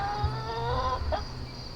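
Young speckled chicks in a new chicken coop give a soft, close clucking call, with a brief higher chirp over a steady background hum.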